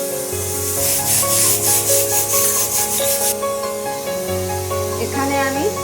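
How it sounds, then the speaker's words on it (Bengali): A pressure cooker cooking mutton vents steam in a pulsing, rushing hiss for a few seconds before falling quiet. Faint tonal background sounds and some voice are present underneath. "এখানে আমি প্রেসার কুকারে তো মাংস সিটি পড়ছে"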